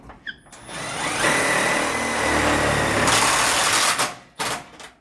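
A power driver sinks self-tapping screws into a retail security case shelf, giving a steady high motor whine that lasts about three seconds between short quiet gaps, close and fairly loud.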